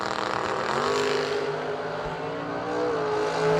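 A 1973 Camaro drag car launches at a drag strip. The engine revs hard, with rising harmonic tones as it pulls away, loud and close, and no talk over it.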